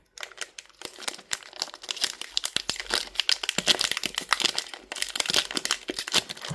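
Trading card pack torn open along its side, crisp crinkling and ripping of foil packaging up close, continuous irregular crackles with sharper tears throughout.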